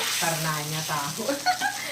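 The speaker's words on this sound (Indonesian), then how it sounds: "kita masukkan ini tahunya ke dalam sini ya sembari kita nunggu dia mendidih supaya dia menyerap" Fried tofu simmers in tauco sauce in a pan, a soft continuous bubbling sizzle with faint stirring and a couple of light clinks near the end.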